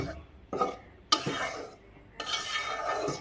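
Rice flour is stirred in a pan, with scraping and rustling strokes coming in uneven bursts separated by short quiet gaps, close and fairly soft.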